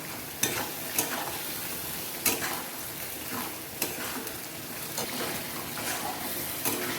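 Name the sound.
spice masala frying and stirring for goat meat curry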